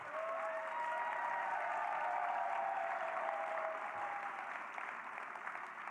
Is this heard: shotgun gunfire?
no